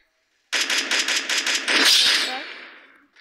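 Rapid bursts of gunfire from the video game Free Fire, a run of evenly spaced shots followed by a longer louder blast that fades out, with no talking.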